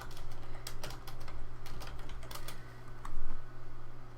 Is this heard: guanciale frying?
no